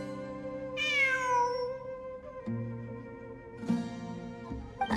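A cat meows inside a ruins-exploration video game, one loud rising-and-falling meow up close, followed by soft game background tones and a few faint clicks, with no talking.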